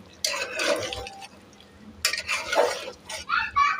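A spoon stirs meat curry in a pot after garam masala goes in, making two bursts of wet scraping and squelching close by, with a few brief clinks at the end.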